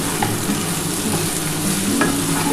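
Pointed gourd and potato curry sautéing with spices in a pan, a steady close sizzle broken by scraping stirs, with no talking.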